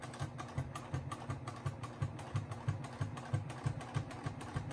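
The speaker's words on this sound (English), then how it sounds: "I usually go very slow when I'm sewing really close to the edges because I don't want to mess up." A sewing machine runs slowly while stitching close to the edges of a fabric bookmark. It makes a steady, close mechanical whir with a regular low thumping needle rhythm throughout, and there is no talking.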